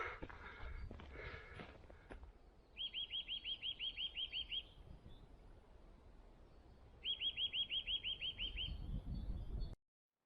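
Two bursts of rapid, repeated high chirps from a bird in a wood in the Lake District, each lasting about two seconds, over a quiet outdoor background with light rustling.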